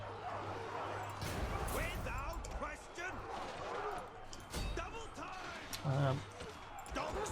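War dogs bark and yip repeatedly in battle in the game Total War: Arena, mixed with thuds and clashing combat noise under a voice talking throughout.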